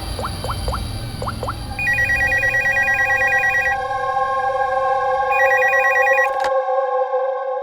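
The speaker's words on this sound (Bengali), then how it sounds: "স্যার, স্টোর ম্যানেজারকে ফোন করছি।" A telephone rings on an outgoing call to a store manager, heard as repeated electronic ringback pulses over a low hum, loud and close, after a few brief tones at the start.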